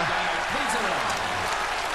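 Darts crowd applauding in the arena during a World Series of Darts final between Peter Wright and Michael van Gerwen, a continuous roar of clapping and cheering with voices mixed through it.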